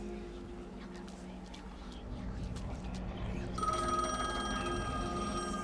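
An in-game telephone rings in a horror video game, its repeating electronic bell tones starting partway through and continuing steadily over a low, murky ambient backdrop.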